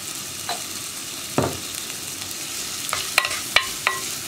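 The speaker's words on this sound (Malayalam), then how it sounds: "ഇനി നമ്മളിതുപോലെ ഇളക്കി കൊടുത്തുകൊണ്ടിരിക്കുക" Sliced onions for a Kerala bean and tomato curry sautéing in a pan with salt, a steady sizzle under a few sharp spoon scrapes and taps against the pan, close and alone.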